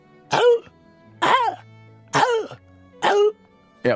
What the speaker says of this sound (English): it ended up being my own voice barking my throat sore